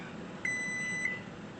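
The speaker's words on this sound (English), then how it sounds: "And I love to record the beeping." A kitchen oven timer gives a single steady electronic beep lasting about half a second, clear and fairly close over a quiet room background.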